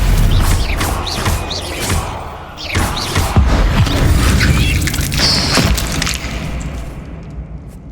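Confringo blasting spell striking a barricade in the Hogwarts Legacy video game: a dense, continuous stretch of booming thuds, crashes and magical whooshes, with several sharp impacts layered over a loud, rumbling game soundscape.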